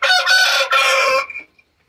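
A rooster crows at dusk while hens are fed, a single loud, close, harsh cock-a-doodle-doo in two drawn-out phrases that trails off abruptly, with no talking.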